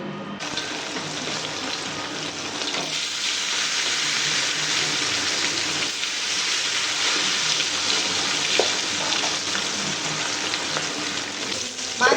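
Rui fish frying in plenty of oil in a wok, a steady broadband sizzle that holds at an even, fairly loud level throughout with small crackles and no talking.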